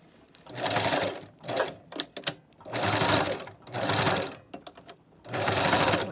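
A sewing machine stitches the tracks of a glue-less frontal wig in four loud, close bursts of rapid running with short pauses between, ending with quick back-and-forth stitching.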